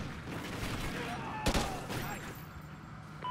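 SA-805 gunfire in Call of Duty Ghosts, a muffled, faint exchange under a busy game backdrop, with one sharp nearer shot standing out and distant firing trailing off.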